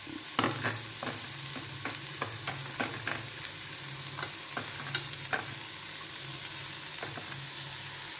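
Beans and carrots sautéing with salt in a hot pan over low flame, a steady soft sizzle broken by repeated clicks and scrapes of a spatula stirring, with no voices.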